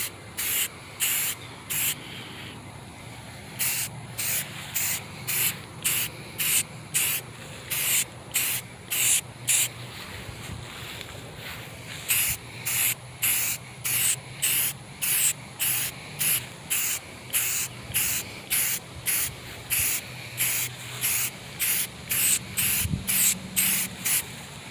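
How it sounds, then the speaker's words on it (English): Satin black paint and primer hiss from a spray can outdoors in the wind, in repeated short bursts of about a second each, close and steady, with brief gaps and a longer pause partway through. "Wind does not help, as you can see when you start spray painting."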